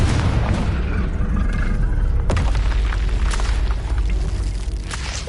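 A Confringo blasting spell in a Harry Potter video game lets out a loud, rolling explosive boom that swells and rumbles continuously for several seconds, with a sharp crack near the middle.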